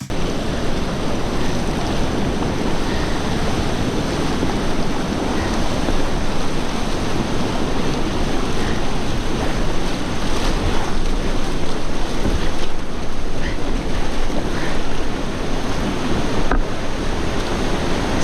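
Loud, constant roar of churning whitewater at the Horseshoe Wave on a river at Great Falls Park, Virginia, at about 2.67 ft, with wind buffeting the microphone throughout.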